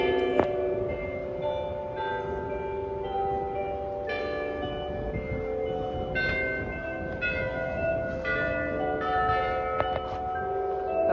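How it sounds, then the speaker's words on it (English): Church bells at St Mark's Catholic Church in Brooklyn ring the quarter-hour chime at 7 PM, a sequence of clear resonant strikes with ringing overtones, fairly near and steady, with no talking. "There's the bells, Elinor."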